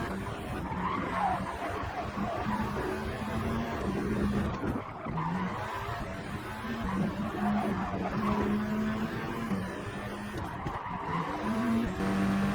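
A race car chasing an Aston Martin on the final lap of a racing video game, engine droning steadily with repeated tire skids and squeals, continuous and loud with no talk.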